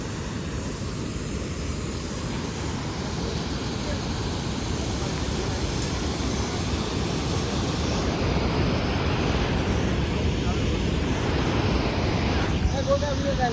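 Water pours at the Dev Ghat waterfall, giving a constant, dense rushing roar that holds an even level from start to finish, close by and loud.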